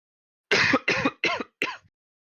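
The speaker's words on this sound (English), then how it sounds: "Just coughing my lungs out." Four harsh, rasping coughs in quick succession, loud and close, each a short burst with brief gaps between.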